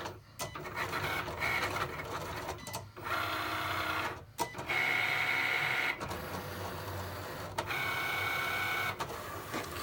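A Cricut machine cuts an embossed card, its motorized carriage whirring and buzzing in bursts of a second or two, broken by short pauses and clicks as the head changes direction, close and moderately loud.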